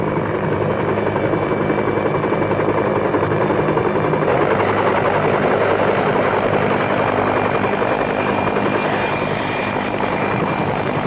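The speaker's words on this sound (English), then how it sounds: "A helicopter over Buckingham Palace on a summer morning." A helicopter's steady rotor thrum and engine roar fill the air continuously over Buckingham Palace on a summer morning, loud and close overhead with no voices.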